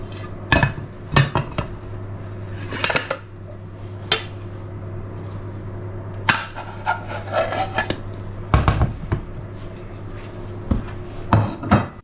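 A tortilla española clatters in a frying pan as it is flipped, with several loud knocks and scrapes of pan and plate spread over the clip and quieter handling sounds between them.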